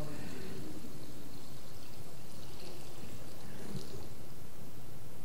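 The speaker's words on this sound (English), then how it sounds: "So we have the water here. We will pour it in." Plain city water is poured into a font during a church service for a baptismal vow reaffirmation, a steady, soft, continuous splashing trickle heard alone at low level.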